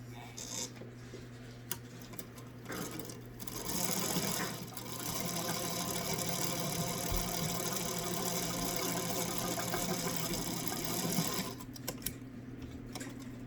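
Sewing machine stitching a seam through a layered fabric face mask: a steady, close, fast mechanical whir running continuously for most of the stretch, with brief starts and stops near the beginning and end.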